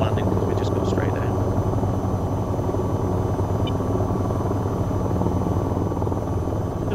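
A helicopter hovers in the video game VTOL VR, its rotor and engine making a loud, steady, unbroken thrum that holds throughout with a few faint higher chirps near the start, and a voice talks over it.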